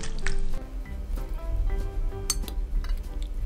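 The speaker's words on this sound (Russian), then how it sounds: "Набираем огурчики прямо с соком и накладываем в баночки как можно плотнее." A spoon scoops juicy Polish-style pickled cucumbers with their liquid and packs them tightly into glass jars, giving close wet squelches, drips and light clinks of metal on glass in a steady run with no talking.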